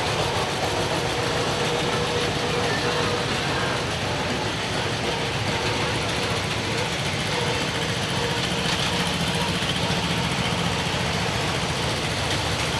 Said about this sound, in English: Another John Deere tractor going by.